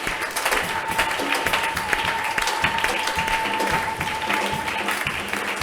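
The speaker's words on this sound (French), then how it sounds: "reçois les acclamations" Sustained applause and acclaim from a congregation during a church worship service, a dense steady wash of clapping lasting throughout, with faint voices and a held tone underneath.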